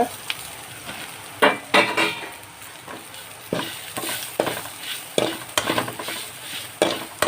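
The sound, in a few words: spice masala frying and being stirred in a pan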